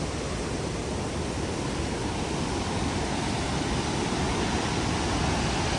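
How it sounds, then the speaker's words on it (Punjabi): A fast-flowing river beside the Hemkunt Sahib mountain trek gives a steady, loud, broadband rush of water that holds unchanged throughout with no talk. "ਨਦੀ ਬਹੁਤ ਤੇਜ਼ ਵਹਿ ਰਹੀ ਆ"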